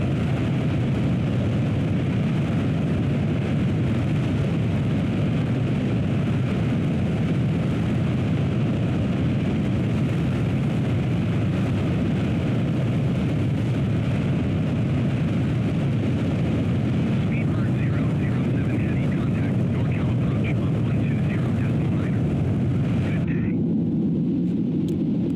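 A Concorde lifts off in Microsoft Flight Simulator as a loud, steady jet roar fills the scene, building and holding before cutting off near the end.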